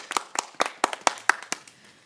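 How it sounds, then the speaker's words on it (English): Sparse applause from a small audience welcoming a speaker to the stage at a school debate, about eight distinct close claps in an uneven rhythm that taper off quickly. "with a round of applause"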